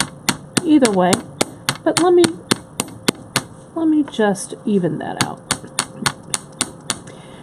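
Metal hammer striking a wire earring armature in a jewelry-making session: a rapid run of sharp, close taps, some in quick pairs, with a person talking between and over the blows.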